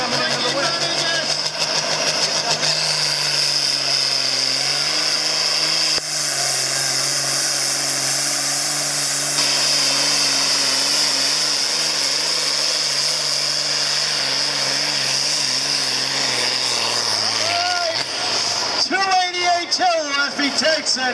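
A hot-running John Deere pulling tractor roars loud and steady at a tractor pull, its engine note holding high before dropping away near the end, with a crowd and an announcer's voice over it.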